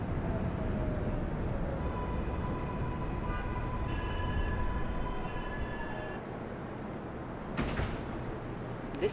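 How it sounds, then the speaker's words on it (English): MTA F express subway train on the Manhattan-bound line in the openBVE train simulator game, a steady loud rumble of wheels and motors with tonal hums, then a door-like clatter near the end. "This is a Manhattan-bound F express train."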